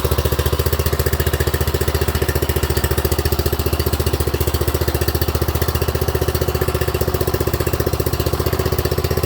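Engine running at a steady idle, a close, loud rapid chugging with an even pulsing rhythm throughout, alone with no talk; the startup itself is not distinct.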